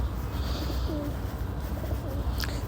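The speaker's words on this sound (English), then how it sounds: "Pigeons cooing softly as I walk past." Pigeons coo softly in quick, brief calls from nearby shrubs and ivy along an outdoor path, set against steady low ambient noise.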